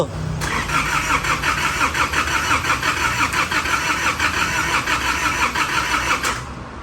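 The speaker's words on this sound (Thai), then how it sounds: "ต่อไปก็ สตาร์ทเครื่องยนต์ ลองดู" A car engine with 200,000 km, just reassembled after maintenance, cranks with a rapid, churning rhythm for several seconds, loud and close, before cutting off abruptly.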